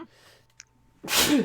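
A single sharp sneeze bursts out loudly and close at the end, after near silence with a faint word spoken before it.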